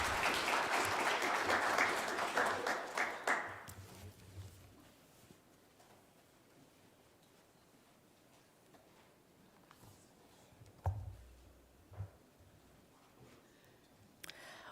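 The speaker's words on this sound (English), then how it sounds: "Can we please give them a round of applause?" A morning monetary policy announcement audience bursts into loud applause for about four seconds, which fades into quiet room noise with a few scattered knocks and shuffles.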